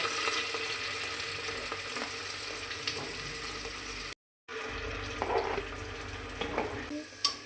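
Garlic paste and onion fry in a pan for a mutton dish, a steady close sizzle with stirring scrapes and clinks, briefly cut off midway, then resuming with sharper stirring knocks.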